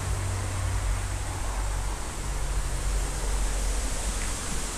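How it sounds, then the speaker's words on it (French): Constant broadband rushing of water, like a nearby waterfall, fills the whole stretch without change, with a low rumble beneath and no voices. "Derrière il y a une cascade."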